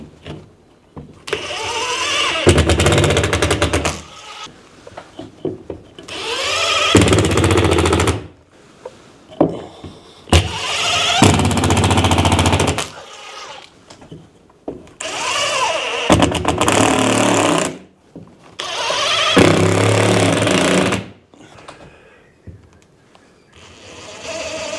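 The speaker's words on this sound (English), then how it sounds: "When you are screwing, you want to be pulling down on it at the same time." A power drill driving screws through a patch into a damaged wall, five loud whirring bursts of a few seconds each with short pauses between, close up.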